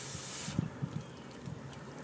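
Homemade fire extinguisher bottle spraying out its contents onto a fire, a loud hissing burst that cuts off after half a second, followed by faint rustling and soft thumps.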